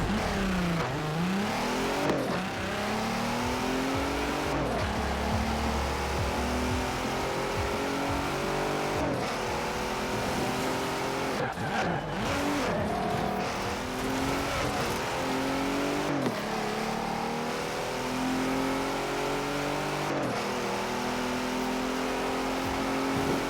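A stock 2019 Hennessey VelociRaptor 6X6 races in Forza Horizon 4, its engine revving hard and climbing through repeated gear shifts, with tire noise and a loud, continuous drone throughout.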